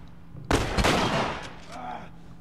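Shotgun blasts from the video game The Last of Us. A sudden loud burst and a quick second boom fade into a rumbling tail, followed by softer game sounds.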